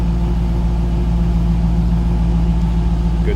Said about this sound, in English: Good sounding LS1.